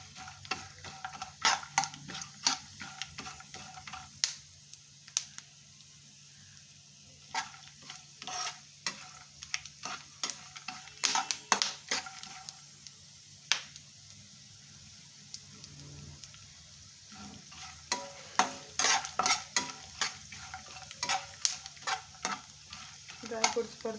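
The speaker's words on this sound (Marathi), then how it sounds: "ड्राय फ्रूट्स आपल्याला परतून घ्यायचे थोडेसे।" Dry fruits sautéed and stirred in a pan for strawberry modak, with irregular scraping and clinking strokes of a spoon over a soft steady sizzle, close and moderately quiet, no talk.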